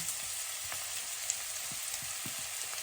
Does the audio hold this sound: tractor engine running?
no